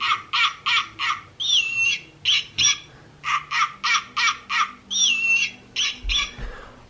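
Electronic toy European snowy owl from Wild Republic plays a recorded owl call: a series of rhythmic hooting-like bursts broken by two longer, wavering whistled cries, loud and close with no talk.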